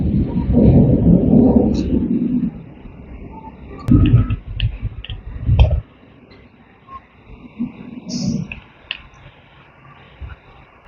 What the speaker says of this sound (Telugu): ఉరుములు మెరుపులు వర్షం